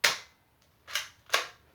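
A toy foam dart blaster that ejects shells fires, giving three sharp, close snaps spaced unevenly, each dying away quickly in a quiet room.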